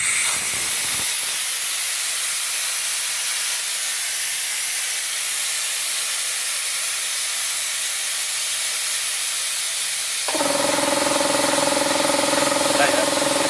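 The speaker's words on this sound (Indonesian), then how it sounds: "Kita buang anginnya di sini." Compressed air hisses loudly and steadily from the release valve of a Multipro air compressor, then the motor kicks in with a humming drone near the end.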